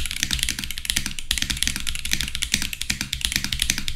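Rapid, continuous typing on an AKKO 5075B Plus ISO mechanical keyboard close by, each keystroke clacking with a distinct double click, steady and busy throughout.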